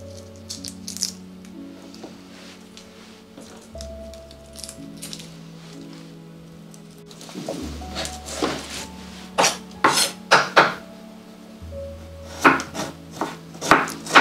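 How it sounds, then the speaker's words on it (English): Reindeer meat for a traditional Nordic dish is cut into smaller pieces, with sharp, uneven knife knocks against a board growing denser in the second half over a low, steady hum. "Just chop the smaller piece"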